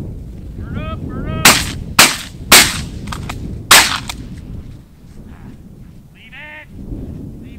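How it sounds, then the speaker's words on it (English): Shotgun blasts ring out during a pheasant, chukar and quail hunt in Maryland, four sharp loud reports spaced within a few seconds, echoing outdoors, with bird calls in the background. "You missed the first shot. I saw the second shot."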